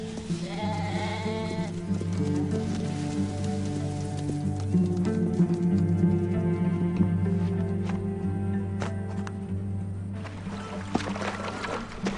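Sheep bleat repeatedly over a steady patter resembling rain, a wavering series of calls layered into a continuous background of droning music-like tones.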